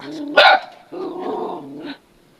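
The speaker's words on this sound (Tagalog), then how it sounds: "May aso sa loob." A dog gives a sharp single bark followed by a drawn-out growling woof, close and loud, then silence.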